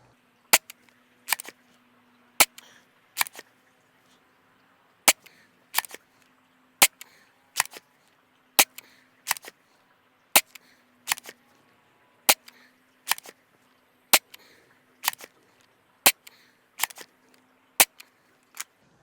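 A Worker Harrier foam dart blaster firing new Worker darts, each shot a sharp close snap repeated at a steady rhythm roughly once per second, with a faint low hum underneath and no talking.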